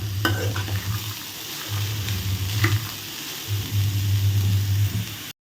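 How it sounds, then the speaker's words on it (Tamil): Carrots sautéing in a pan on the stove, a steady frying sizzle with a spoon stirring through them in bursts, close and fairly loud, the scraping strokes coming in uneven waves. "நல்லா வதங்க விட்டுட்டு அதுக்கப்புறமா உப்பு சேர்த்துக்குவோம்"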